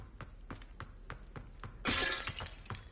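An object shatters in the video game Hogwarts Legacy, a single bright burst of breaking glass or crockery over a faint rhythmic background of footsteps-like ticks.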